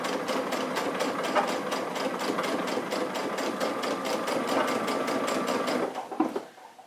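A sewing machine topstitches a patch pocket, running steadily and close with a fast, even stitching rhythm for about six seconds, then slowing and stopping.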